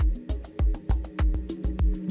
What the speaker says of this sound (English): so if we play these sounds together with our drum groove, it sounds like this